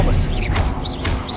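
Expelliarmus spell impact in Hogwarts Legacy: several sharp magical cracks and zaps with rising, swooping chimes on top, close and punchy over a low rumbling bed.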